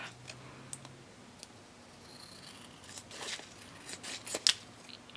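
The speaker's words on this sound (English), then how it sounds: "And then trim that edge off." Scissors trim the edge off a plastic shaker pocket cover for a gift card mini album, giving a few quiet snips and clicks that build toward a sharper cut near the end, close up with no talking.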